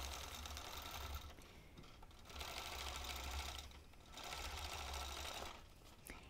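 A Vintage Gem quilting machine stitches through fabric in steady whirring bursts, loud and close, with short pauses between runs of rapid mechanical chatter.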